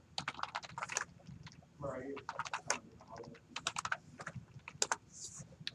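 Names being typed on a computer keyboard: rapid, irregular bursts of close key clicks with short pauses, mixed with a quiet voice talking.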